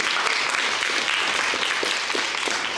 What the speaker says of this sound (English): round of applause, thank you